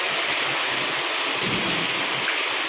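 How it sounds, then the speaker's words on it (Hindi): Heavy rain pours down steadily in a village, a dense, loud, unbroken hiss of falling water with a faint low rumble underneath and nobody speaking. "इतनी फुल बारिश हो रही है हमारे यहाँ पे"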